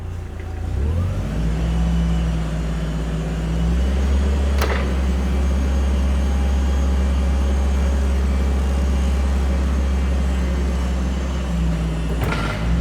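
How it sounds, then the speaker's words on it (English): Hyster S50FT propane forklift engine revving steadily under throttle while the mast raises, a loud continuous drone with a couple of short clanks. "So in order to make these things actually raise up faster, you just have to basically gas the throttle."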